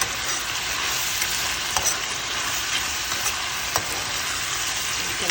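Tomatoes, onion and hot pepper frying in a pan, a dense, even sizzle with occasional small pops and crackles, close and steady with no talk.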